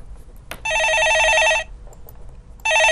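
A telephone rings close by in two bright trilling bursts, one long ring followed by a pause and the start of another, with a faint click just before.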